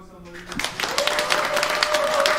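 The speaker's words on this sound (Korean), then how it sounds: "하나님께 영광의 박수 한번" A church congregation breaks into applause during a 30th-anniversary worship service, swelling from a brief spoken lead-in into steady, dense clapping from a large crowd.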